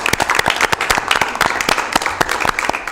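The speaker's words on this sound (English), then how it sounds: "Round of applause." A small group clapping at an air quality management district board meeting in Sacramento, distinct individual claps close by, lively and uneven for a few seconds.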